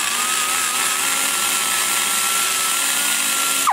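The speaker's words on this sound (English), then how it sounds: "control a burr that giant big spinning at that RPM trying to shape that guide" A high-speed rotary burr shapes a fishing rod guide, a Holder's 305 HO 601 bullet guide, giving a steady, loud, continuous whine and grinding hum throughout with a drop-off at the very end.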